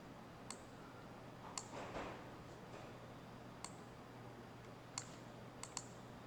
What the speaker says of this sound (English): I right click on my picture to copy my image